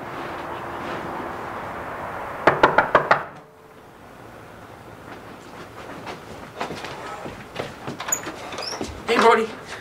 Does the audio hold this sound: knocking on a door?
yes